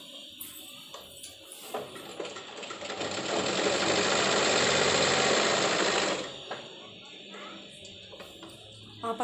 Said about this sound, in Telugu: ఒకే హైట్ రెండుసార్లు వేసేస్తున్నాను కుట్టు